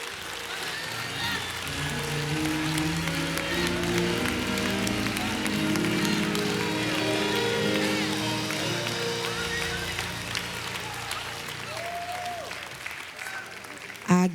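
A church congregation claps along with rhythmic clapping over organ or keyboard chords and crowd noise, steady and moderately loud throughout.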